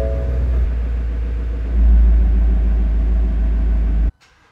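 A Ford Mustang GT350R engine idles with a steady low rumble, swelling briefly partway through, then cuts off abruptly near the end.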